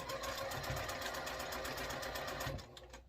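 A sewing machine runs steadily while piecing a heart quilt block, a continuous close, fast stitching whir lasting nearly the whole span before slowing and easing off near the end.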